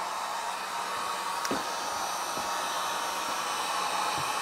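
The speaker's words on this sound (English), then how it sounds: "All right, heat gun in full blast right now." A 1200-watt heat gun runs at full power with a continuous, even blowing roar. The sound stays close and loud from start to finish, with a couple of faint knocks in the background.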